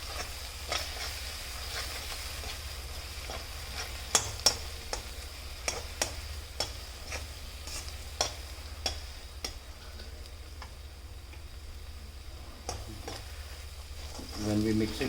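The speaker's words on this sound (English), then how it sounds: "we'll allow this all 3 powders to get fried along with the paste." Spice powders frying with a paste in oil as they are stirred, a quiet continuous sizzle broken by sharp scraping ticks from the spoon at irregular intervals.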